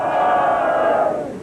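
Crowd cheering in Japan as election results come in, led by Prime Minister Kiichi Miyazawa of the Liberal Democratic Party; a dense, sustained roar of many voices that holds steady and then fades slightly at the end.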